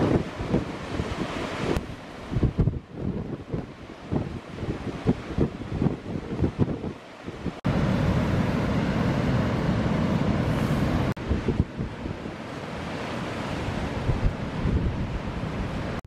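Powerful Atlantic waves roar at Slea Point on Ireland's wild coast, loud surging surf with heavy wind buffeting the microphone, crashing in bursts and then a sustained roar.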